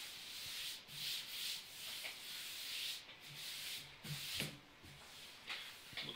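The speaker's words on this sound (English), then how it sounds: "it's a little bit of sanding on the edges in here" Hand sanding along the edges of a wooden router extension wing for a table saw, a steady rubbing rasp in short back-and-forth strokes, close and fairly quiet, with brief pauses between passes.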